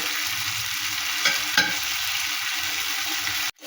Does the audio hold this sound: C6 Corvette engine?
no